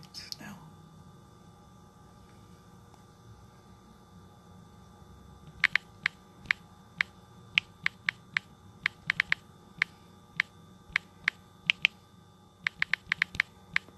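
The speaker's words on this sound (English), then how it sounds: "I'm typing what we're making" Crisp keyboard clicks from a computer keyboard, typed at a kitchen baking setup for lemon ricotta cookies and keto bread, start after a quiet stretch and come in irregular bursts of single taps, fairly close and distinct over a low room hum.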